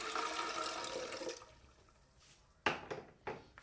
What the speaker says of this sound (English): I'm just gonna pour it in the blender, and that's 1 cup of peanut and 1 cup of water